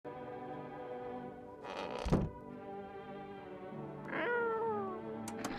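A cat meows in a horror video game, with a drawn-out wavering call near the start and another rising, harmonic meow toward the end over a steady tonal game hum, plus a dull thunk between them.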